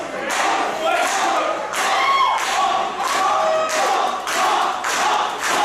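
Crowd at an independent wrestling show cheering for Hoss Hagood: a dense, loud roar of voices rising and falling in waves, with shouts and rhythmic surges throughout.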